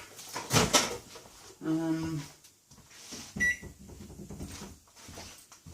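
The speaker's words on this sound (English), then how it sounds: "So I'm going to put that in the microwave." A microwave oven heats a cottage pie in a home kitchen: a clunk of the door, a short electrical hum, then a bright electronic beep, with brief talk and handling noises around it.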